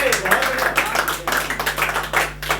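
Thin, scattered clapping from an audience at a Hindi poetry recital, light and uneven, with a voice heard alongside.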